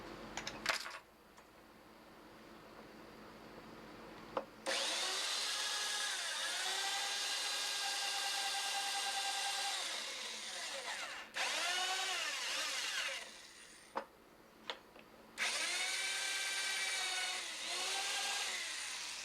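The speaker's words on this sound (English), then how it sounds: "chucking a bit up tight in the drill in order to allow it to slip if it catches" A power drill whines at steady high pitch while carving a stone bear pipe, running in long continuous bursts with brief stops and restarts, the bit occasionally catching.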